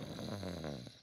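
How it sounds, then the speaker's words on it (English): A cartoon pig snores once, a long rumbling, throaty snore filling the short moment close and loud before trailing off at the end. "It sounds like snoring."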